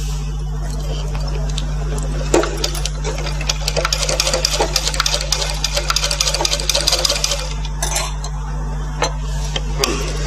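A sewing machine stitching a blouse seam, a rapid mechanical chatter that starts after a couple of seconds, runs steadily, then stops in short bursts, heard close over a constant electrical hum.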